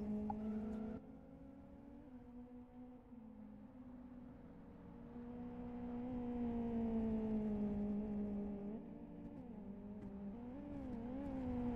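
A rallycross car engine at Blackwood in the racing game Live for Speed drones steadily. Its pitch rises and falls as the car powers out of a corner, with no talk over it.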